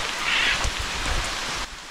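Rain in a tropical forest near a waterfall on the Jalisco coast, a steady hissing patter up close, with a brief bright bird-like call early on and a drop in level near the end.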